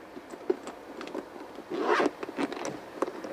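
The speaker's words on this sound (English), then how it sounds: "Zip it up." A zipper being pulled around the Eachine E58 drone hard case, a steady scratchy run of short zips with a louder, longer pull near the end, close and alone.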